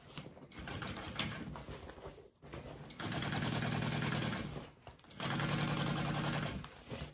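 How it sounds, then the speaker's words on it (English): A sewing machine bastes the side seam of a backpack in two long, steady runs of fast, rhythmic stitching, with brief pauses and fabric handling between them. "Now I'm basting this other side here."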